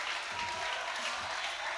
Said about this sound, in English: Oh, so the crowd just went crazy for Gavin.